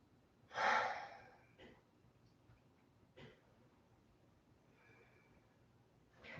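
Slow, deep breathing during a yoga session: one strong audible inhale-exhale near the start, then fainter breaths spaced a couple of seconds apart in a quiet room, with no talking.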